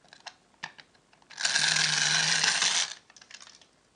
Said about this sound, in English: this is a wind-up motor. So how it works is you wind it up, take out the key,